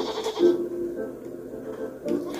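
Goat bleating in the video game Blanc, a couple of loud, wavering bleats near the start and again toward the end over a steady low game ambience.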